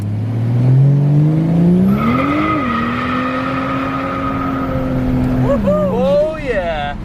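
A turbocharged car engine pulls hard at full boost, its rising drone climbing steadily in pitch before a lift-off and quick gear change at the end, loud and close from inside the cabin.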